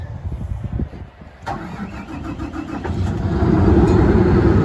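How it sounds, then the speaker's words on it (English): A Hugg & Hall HH190 generator engine cranks with a rapid rhythmic churn, catches, and settles into a steady, growing mechanical run up close, with no talk. "Then we're able to push the start button."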